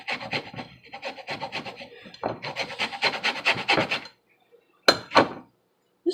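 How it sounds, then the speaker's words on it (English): Orange rind scraped across a hand grater gives rapid, rhythmic rasping strokes in two close bursts, then a pause and a couple of final scrapes. "I've used this grater before, but never for, like, citrus peel."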